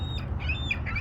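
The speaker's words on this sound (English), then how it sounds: "Feeding the birds! Found some birds." Birds squawking as they gather to be fed outdoors, a few sharp close calls in quick succession over a low background rumble.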